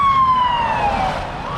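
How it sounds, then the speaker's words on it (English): Several emergency sirens from fire trucks and ambulances wail with a slowly falling pitch over steady traffic rumble in a flooded town, fairly close and continuous. "you can hear fire trucks and ambulances coming from every direction"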